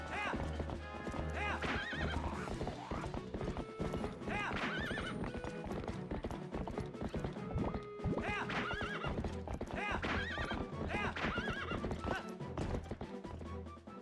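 A horse in the video game The Legend of Zelda: Twilight Princess gallops with rhythmic clip-clopping hooves and whinnies several times over game music and effects, with a player talking intermittently.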